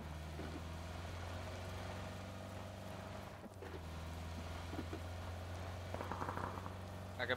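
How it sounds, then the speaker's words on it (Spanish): Steady rain falls in the battle royale video game PUBG as a soft, continuous hiss under a low engine drone, faint throughout, with a brief dip midway and light clatter near the end. "Odio la lluvia, tío."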